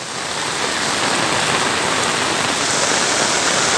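Heavy typhoon rain pours steadily during flooding in Camarines Sur, Bicol, a loud, dense, unbroken roar of water filling the whole clip with no voices.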